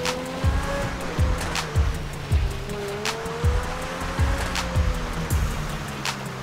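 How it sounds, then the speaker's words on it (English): Car driving in the video game GTA 5, a steady engine drone with rising and falling tones, broken by regular sharp thumps and tire scrapes. "So we drive a car like this"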